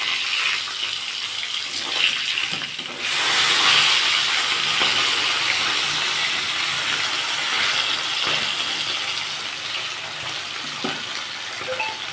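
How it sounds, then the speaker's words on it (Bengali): Loud, continuous hissing sizzle of bata fish frying in oil, intensifying after a few seconds, with faint scattered clatters of a utensil. "বাকি যে দুটো মাছ আছে আমি এইভাবেই ভেজে নেব"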